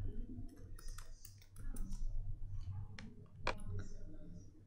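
Light clicking of computer keys as a name is typed into code, scattered taps and short bursts of keystrokes at modest volume, with a person speaking over them.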